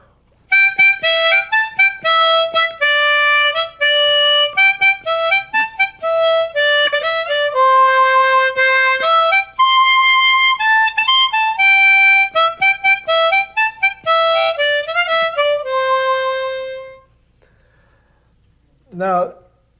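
A harmonica plays Camptown Races as single notes using the pucker method. It is a quick, lively, close melody of short and held notes that stops near the end, followed by a brief breath.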